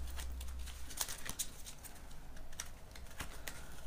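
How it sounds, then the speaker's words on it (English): Soft, quick clicking and riffling of tarot cards being shuffled, a brief irregular patter of light taps, quiet and close with no talking. "One more shuffle, I should say."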